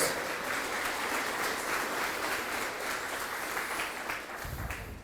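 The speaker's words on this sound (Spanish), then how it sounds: "Dale un aplauso al Señor, a todos." A church congregation bursts into a sustained round of applause, steady and fairly distant, fading slightly toward the end.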